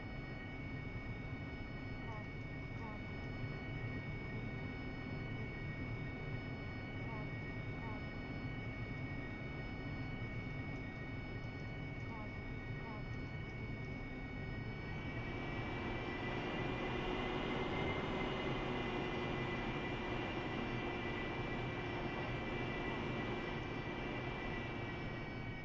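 AV-8B Harrier jet engine in the DCS flight simulator, spooling up to 60% on a carrier deck before a short takeoff: a steady whining turbine hum with a tonal whistle that swells and rises midway, continuous and unbroken.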